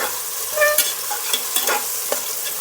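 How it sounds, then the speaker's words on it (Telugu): Sliced onions sizzle as they shallow fry in a pan for Andhra-style bagara rice, a steady crackle broken by a few sharp scrapes and clicks of stirring, close by with no voices. "ఆనియన్స్ బాగా ఫ్రై అవ్వాలని, కొంచెం షాలో బ్రౌన్ అయితే చాలు"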